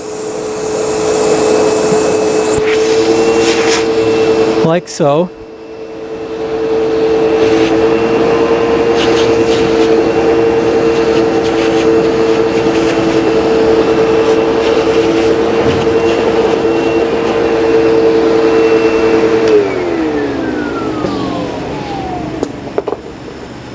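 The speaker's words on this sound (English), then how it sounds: "place the cloth over the vacuum hose" A loud vacuum cleaner runs steadily with a cloth held over the hose while testing furniture upholstery for dust. There is a brief clatter and a dip when the cloth goes on, then a constant drone that winds down at the end; a voice speaks briefly.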